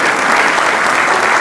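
Dense, steady crowd clapping fills the whole moment, a loud wash of applause at a stage play performance during a foundation day celebration, welcoming a performer.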